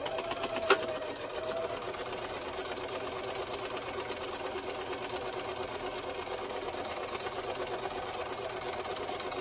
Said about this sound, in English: I'm going to sew all the way around at a 1/4 inch